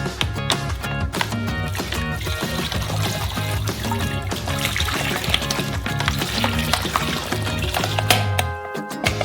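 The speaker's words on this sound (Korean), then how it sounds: "레몬 주스 한 병을 따라주세요" A bottle of lemon juice being poured over crayfish for cooking, a steady liquid pour under dense background music, moderately loud and continuous with no talking.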